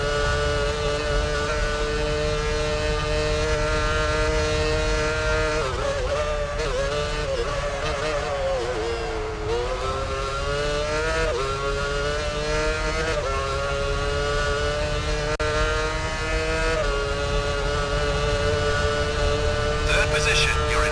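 Formula One race cars in a PS3 racing game at an Italian circuit, engines whining at high pitch as one car overtakes another, revs rising and falling continuously while a commentator's voice runs over the engine noise.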